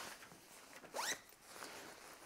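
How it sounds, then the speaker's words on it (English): One quick zip being pulled open at the top of a jacket sleeve, a brief rising rasp close by in an otherwise quiet room. "You undo the zips at the top of the sleeves."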